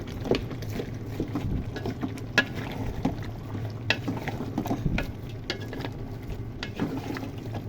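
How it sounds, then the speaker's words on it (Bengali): Beef curry is stirred in a pot while it sizzles. Frequent scraping strokes and clinks rise over a steady, close sizzle. "নেড়ে ঢেকে দিব"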